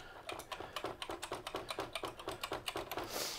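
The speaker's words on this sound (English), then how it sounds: "Everything's working now on the keyboard." Rapid typing on a homemade keyboard for a scratch-built Acorn BBC Model B computer, an even run of close, crisp key clicks at a quick pace, with no talking.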